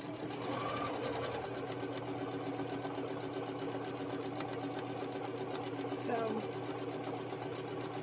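A sewing machine stitches quilt fabric in a steady, continuous whir that runs close and loud through the whole stretch, with a brief spoken word near the start.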